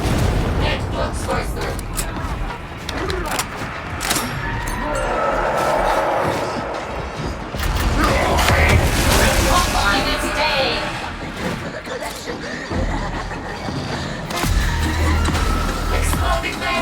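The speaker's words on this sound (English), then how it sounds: "Exploding barrel." An exploding barrel in Darktide goes off amid a busy game soundscape, with muffled booms and rumbling mechanical noise layered over constant background action and swelling around the middle.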